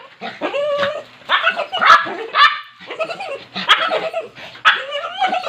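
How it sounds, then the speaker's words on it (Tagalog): Several dogs bark and yip in quick, overlapping bursts at close range as they greet someone arriving in Cebu, with occasional whimpering mixed in. "Parang tahol"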